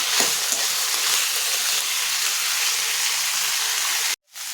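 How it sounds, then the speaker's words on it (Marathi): Carrot slices and beans sauté in hot oil with potato slices, a loud, dense sizzle that runs evenly and then cuts off abruptly near the end, with no talk. "गाजराची काप आणि थोडीशी बीन्स आपल्याला चांगलं परतून घ्यायचं आहे"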